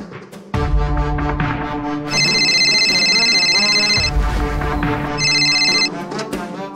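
A telephone rings in repeated bursts on an outgoing call, with a bright electronic tone over a layer of background music.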